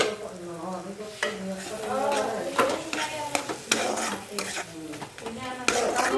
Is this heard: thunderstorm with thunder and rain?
no